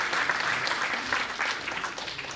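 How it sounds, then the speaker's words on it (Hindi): An audience claps loudly and continuously at a college event, a dense crowd applause that stays strong throughout with no break. "जोर से ताली बजाइए उसके लिए"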